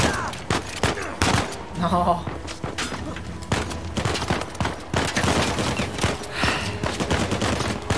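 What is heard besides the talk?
gunfire in the video game Uncharted 4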